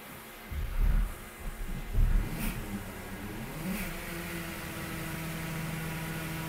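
A BYD Seagull car running on a dyno at full throttle gives a steady, loud mechanical whine and whirring hum, with a couple of heavier bumps early on, then settles into a sustained even drone.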